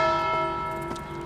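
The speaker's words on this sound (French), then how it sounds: "La cloche rappelle que c'est une nouvelle journée qui commence." A bell rings at a semi-liberty prison, sustained metallic tones with a couple of fresh strikes layered over the ringing decay, moderately loud and alone without speech.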